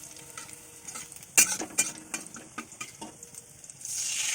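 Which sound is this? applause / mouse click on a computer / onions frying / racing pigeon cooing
onions frying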